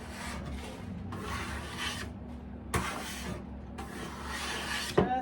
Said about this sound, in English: We're gonna grab our bench scraper. So we're gonna go ahead and just scrape this off